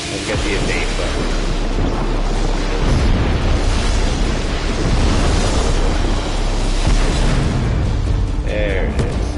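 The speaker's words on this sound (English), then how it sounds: "There's the explosion I like." A large explosion in the video game Just Cause 3 booms out as a dense, sustained roar of blast and debris noise, loud and near, carrying on for several seconds.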